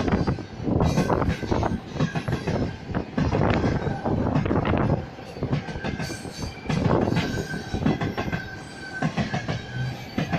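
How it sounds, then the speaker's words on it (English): A grain train passes close by near Bombo station, a loud continuous rumble of railcars with rhythmic clickety-clack of wheels over rail joints and occasional squealing wheels, surging and easing as the wagons roll past. "It's a grain train."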